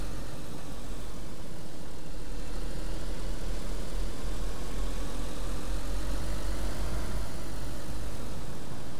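A vehicle engine idles in the video game DayZ in a continuous low rumble, steady and fairly loud, with no voices.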